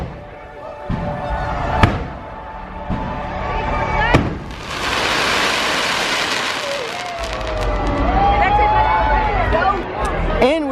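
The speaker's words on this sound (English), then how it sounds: "with that short little firework display done" Short fireworks display by a theme park castle, several sharp bangs and crackling bursts mid-distance with whistling trails, heard over a murmuring crowd and people talking nearby.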